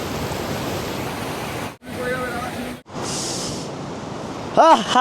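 The Parvati river at Kasol in Himachal Pradesh rushes in a steady, dense roar of flowing water, broken by two brief gaps. A short voice-like sound comes near the end.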